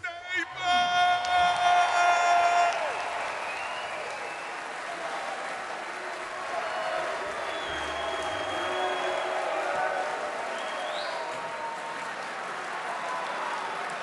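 Audience at a reggae and two-tone concert in the Barbican hall applauding and cheering for the performer, a sustained wash of clapping and crowd noise that swells early, then carries on more softly with scattered shouts and whistles.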